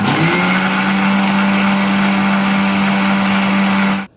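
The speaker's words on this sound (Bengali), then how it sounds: "আমি এবার এটাকে ব্লেন্ড করে নিচ্ছি।" A kitchen blender whirs steadily at high speed as it blends boiled raw green mango with water for lolly ice cream, a loud continuous motor drone that cuts off abruptly at the end.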